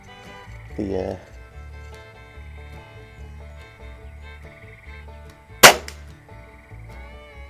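A Crosman 3100 break-barrel pellet rifle fires once at a range target, a single sharp, loud crack near the end, with background music and quieter sounds earlier.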